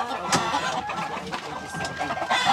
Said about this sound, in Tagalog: tanawan ninyo ang mga manok ni sir, mga nindot kaayo og hitsura